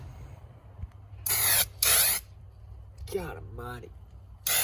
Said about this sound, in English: I'm about to spray this hood.